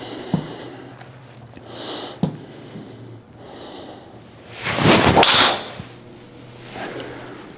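A 2025 Wilson DynaPower driver strikes a golf ball outdoors with a sharp, high-pitched crack and a whooshing rush. Fainter clicks come earlier, and there is no talking.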